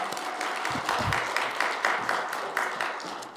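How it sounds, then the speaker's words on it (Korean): A church audience claps during a team ministry presentation, producing a short burst of dense, close applause that stays steady for a few seconds. "우리 박수 한번 부탁드립니다."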